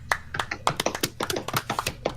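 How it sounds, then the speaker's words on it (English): A small, sparse round of hand claps from a few people on a podcast, scattered irregular taps close to the mic with no talking. "That's just the saddest little round of applause ever"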